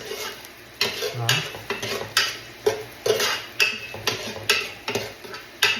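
Onions caramelizing in butter in a pot are stirred in a steady rhythm of close, regular scraping strokes over a soft sizzle, about two strokes per second, with no talking.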